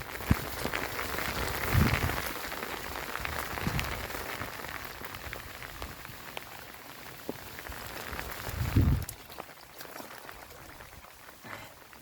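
Steady rain patters on a surface, a continuous hiss with a few heavier bursts and splashes; no one speaks.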